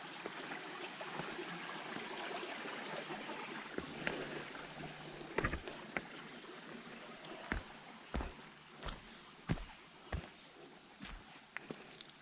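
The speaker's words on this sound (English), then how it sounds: "I can hear water now." A stream flows beside Gabes Mountain Trail in the Great Smoky Mountains, a faint, steady rushing hiss in the background while footsteps crunch nearby at an uneven pace.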